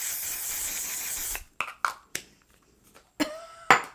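Makeup setting spray hisses onto a face in a long, close, steady mist burst lasting over a second, followed by a few short taps and rustles.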